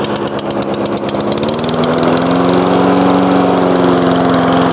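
Up close, a self-propelled lawn mower's engine starts and roars steadily, with a rapid pulsing beat at first that settles into an even, loud drone.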